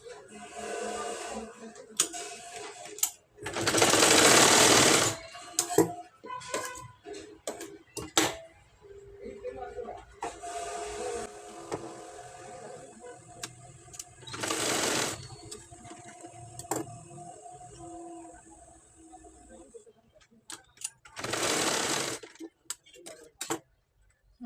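Sewing machine joining plain blouse pieces, sounding in several loud bursts of rapid stitching separated by pauses, with quieter handling clicks between runs.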